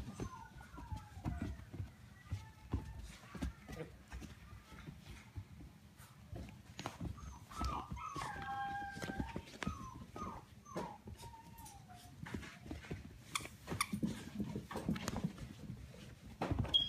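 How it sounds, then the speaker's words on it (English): Young puppies whimper and let out high, wavering yips and whines in a litter, scattered through the stretch with soft shuffling and knocks nearby, fairly faint overall. "These puppies are so funny,"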